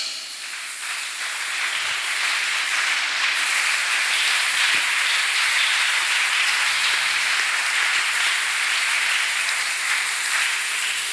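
Church congregation at a Sunday service claps together, a dense sustained wash of applause that swells early and holds steady to the end.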